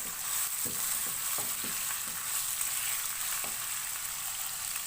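Five finely chopped medium onions fry in oil over medium-high heat, giving a steady, even sizzle broken by a few soft taps and scrapes of stirring.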